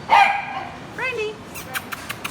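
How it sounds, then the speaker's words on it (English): Dogs at an animal shelter bark and yip: a loud bark, a whining yelp, then a few sharp distant barks in quick succession. "Lots of other dogs want attention here, huh?"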